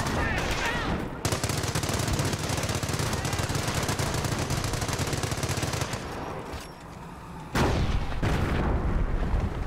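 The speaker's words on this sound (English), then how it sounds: "Taking MG fire!" Sustained machine-gun fire and scattered gunshots in the World War II strategy game Company of Heroes, a dense rattling battle din that drops briefly near the end before surging back loud.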